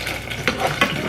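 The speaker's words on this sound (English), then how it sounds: "it's already sizzling back at me" Food frying in a hot pan on a stove gives off a close, steady sizzle, with a couple of quick stirring scrapes in one brief moment.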